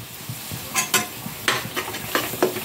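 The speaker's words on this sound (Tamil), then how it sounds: "நல்லா எண்ணெய் பிரிஞ்சு வர வரைக்கும் பொரிய விடலாம்" Oil crackles and sizzles in a pan as spices and turmeric fry for Ennai Kai, with scattered bright pops and the scrape of stirring, fairly close.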